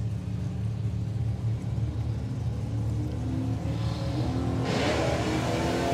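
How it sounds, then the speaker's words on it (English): Doorslammer drag racing cars launch off the line at a drag strip meeting, one lifting into a small wheelie, with a loud continuous engine roar that swells and brightens into a harsh rising howl near the end. "Lovely little wheelie off the line there for Ben."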